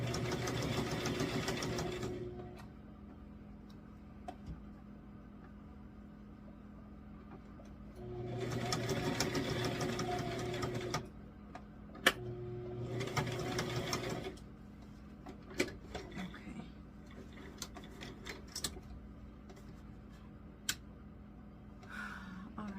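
A sewing machine runs in two short bursts of rapid stitching on a kitchen apron, with quiet pauses and faint clicks and knocks between them.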